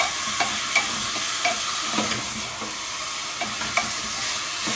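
Steady frying sizzle of onion and garlic sautéing in a pan, with occasional stirring scrapes and taps, close and continuous, no voices.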